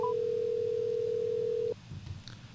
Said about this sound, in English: She's not answering, so let's try her other phone number.